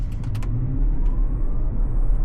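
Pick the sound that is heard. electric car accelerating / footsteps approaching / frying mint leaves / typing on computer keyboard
electric car accelerating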